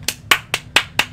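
Five sharp hand claps in a steady, quick rhythm, close and crisp, with no voices, in the video game Aperture Desk Job.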